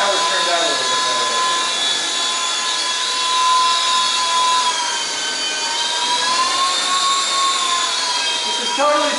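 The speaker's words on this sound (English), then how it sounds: "Totally recommended to fly helicopters in the front lobby." A remote-control toy helicopter flying indoors in a front lobby whines at a high, sustained pitch with whirring rotor tones, close and loud, shifting slightly as it hovers and drifts.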